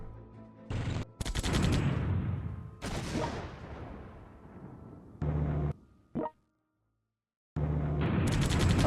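Artillery gunfire in the strategy game World Conqueror 3: a series of loud, sharp booming blasts with rumbling tails, coming in separate bursts broken by short silences.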